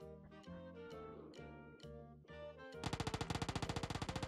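Gunfire in the mobile battle-royale game PUBG Mobile: sparse single shots with a musical game score underneath, then a rapid, loud automatic burst of evenly spaced shots filling the final second and a half.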